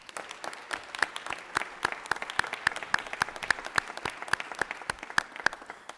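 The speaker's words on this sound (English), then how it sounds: "Let's give them a round of applause." A modest round of clapping in a legislative chamber, with individual sharp claps clearly distinct and fairly sparse, a small group applauding steadily at moderate loudness.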